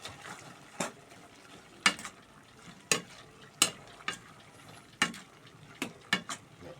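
Chicken curry with bamboo shoots is stir-fried in a pan. A spatula hits and scrapes about ten times in an uneven rhythm over a low, quiet sizzle, close by and with no voices.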